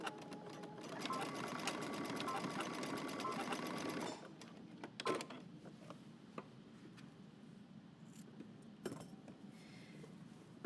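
A sewing machine runs steadily for about four seconds, stitching two elastic ends together for a jumpsuit, then stops; a few faint clicks and handling sounds follow in a quiet room.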